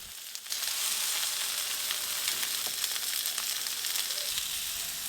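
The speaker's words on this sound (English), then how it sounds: "I just spritz some vegetable oil and begin to grill" Sardines grilling on a heated, oil-spritzed cast iron griddle start with a sudden burst of sizzle, which then holds as a steady, close crackling hiss.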